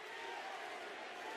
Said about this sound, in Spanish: Oye, ahora están aplaudiendo a la otra